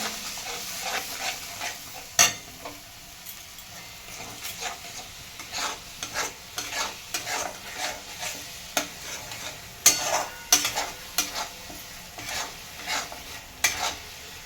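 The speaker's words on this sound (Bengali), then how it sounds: "মিনিট 3-4 মশলাটা ভালো করে কষাতে থাকবো।" Spice paste sautéing in a pan with a little water, a low crackling sizzle broken by repeated sharp scrapes and taps of a spoon stirring, close and alone without voices.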